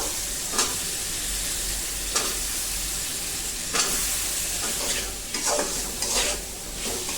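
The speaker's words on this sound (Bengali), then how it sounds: "এবার হচ্ছে মশলার সাথে আলুগুলো ভালোভাবে কষিয়ে নিব" Cut potatoes fry with spice paste in a pan, making a steady nearby sizzle broken by several sharp scraping stirs at irregular intervals.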